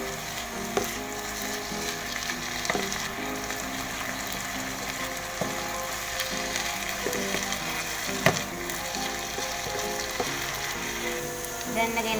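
A chicken mixture with soy sauce is stirred in a pan, with a soft continuous sizzle and repeated clacks of a utensil against the pan, close and quiet, with no talking.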